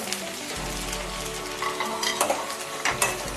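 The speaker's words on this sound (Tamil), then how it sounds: "எண்ணெய் கொஞ்சம் நல்லா அப்படியே பபிள்ஸாக வந்துக்கிட்டு இருக்கு." Oil bubbles and sizzles in a pan with garlic, a dense steady fry with occasional stirring scrapes and clinks, close and fairly loud, with no talking.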